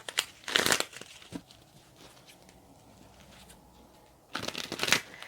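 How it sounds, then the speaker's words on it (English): A deck of tarot cards is riffled and shuffled in two quick bursts of close, crisp flapping, separated by a quieter stretch of soft handling. "I will shuffle them once more"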